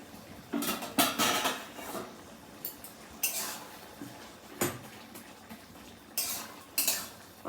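Plate serving as a makeshift lid lifted off a cooking pot of ridge gourd curry, giving several sharp metallic clinks and scrapes of dish against pot, spaced out and close by, with no talk.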